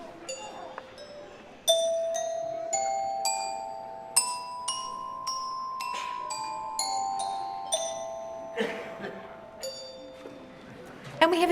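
Kindergarten children play handbells one after another up a scale, each clear ringing strike decaying into the next, in a steady series of about a dozen bright tones with a few overlapping rings near the end.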